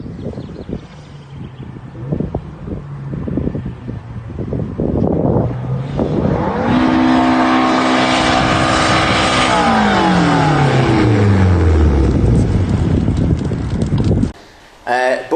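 A racecar engine with its throttle jammed open mid-corner idles roughly, then surges into a loud, sustained high-revving scream that falls away, heard on track with heavy wind buffeting the microphone before cutting out abruptly.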